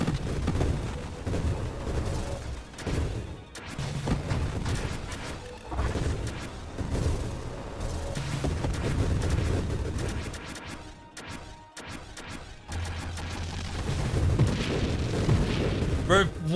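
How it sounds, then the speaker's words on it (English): Repeated explosions and crashing blasts from the space shooter video game Nova Drift, dense overlapping booms and impacts forming a busy continuous barrage with brief lulls. "All of those explosions, those are all mine."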